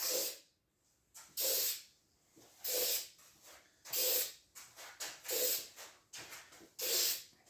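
Spray paint goes onto a Honda ATC recoil pull starter part as a final coat, in repeated short hissing bursts with brief pauses between them, close but fairly quiet, and no one talking.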